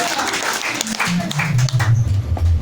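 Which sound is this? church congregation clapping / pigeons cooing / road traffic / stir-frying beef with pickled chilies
church congregation clapping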